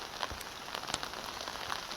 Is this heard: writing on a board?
no